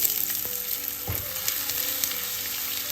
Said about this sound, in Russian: Постоянно помешиваем. И обжариваем до золотистого цвета.